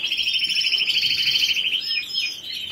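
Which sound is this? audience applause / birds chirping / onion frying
birds chirping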